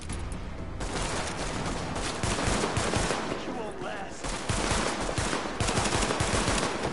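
Gunfire from The Division, a third-person shooter set in New York, rattling in dense continuous bursts with a few brief gaps, loud and close throughout.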